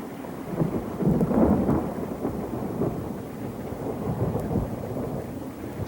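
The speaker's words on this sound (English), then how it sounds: "Thunderstorm." Thunder rumbles low and heavy over steady rain on an alpine pass along the Milford Track in Fiordland, swelling then easing in a continuous wash with no voices.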